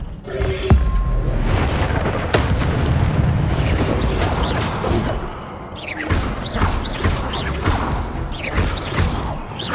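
Fiery Incendio spell blasts in the Hogwarts Legacy video game, loud whooshing bursts and booming impacts amid continuous combat noise, with sharp crackling hits repeating through the second half.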